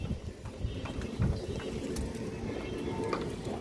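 Pigeons on a farm fill the air with a dense, continuous low cooing and rustling, mixed with steady background noise and no clear speech.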